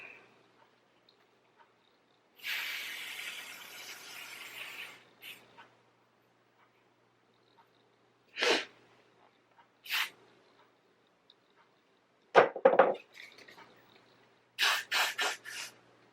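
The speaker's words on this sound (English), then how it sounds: "And I'm going to spray these around my edges." Short aerosol bursts of Got To Be hair spray, regular and Insta Hold, misted around the edges of a braided wig: one long hiss, then several quick separate sprays with quiet gaps between them.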